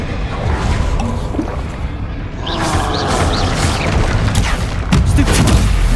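Confringo explosion spell blasts in the Hogwarts Legacy video game, muffled booms and crackling bursts amid busy combat noise, fairly loud and continuous with no speech.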